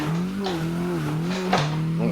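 A Mazda MX5 Miata drifts through a corner at CG Drift Park, its engine note holding steady and wavering with throttle, broken by brief tire squeals, heard close from inside the car.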